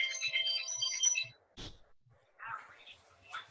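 A phone rings through an office line and a cell phone with a repeating electronic ringtone, which pauses for a sharp click before brief fragments of a tone and muffled sounds follow.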